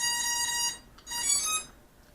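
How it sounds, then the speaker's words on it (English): Two clear electronic beeps from a mini quadcopter's ESCs at power-up, each a bright multi-tone chime lasting under a second, separated by a short pause in a quiet room. "Apply power to the ESCs. Alright, 2 beeps."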